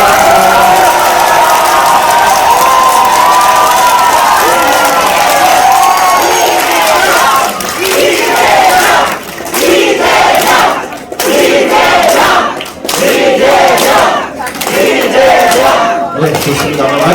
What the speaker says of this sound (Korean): 다시 한번 이경영 당대표님께 큰 박수와 환호 부탁드립니다.